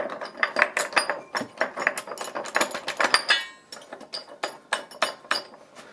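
A wrench tightening the nuts and bolt of a K-type rail fastener with double-coil washer, giving a rhythmic series of metallic ratcheting clicks and clinks, close and fairly loud, with no talk.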